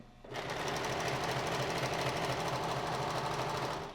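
A Brother 1034D serger overlock machine starts up and runs steadily at close range, a loud continuous mechanical whir with a fast, even rhythmic chatter and no talking.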